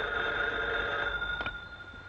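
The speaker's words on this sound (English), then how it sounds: "Joyce Edwards phoning you from the hospital." Telephone ringing in an old radio drama: a steady, sustained electric bell tone sounds alone for about two seconds, with no voices.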